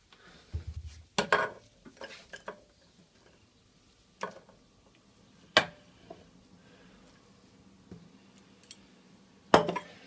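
Dishes and a bowl clink sharply as a bowl is taken out in a home kitchen, several separate close clinks and taps spread out with quiet gaps between them.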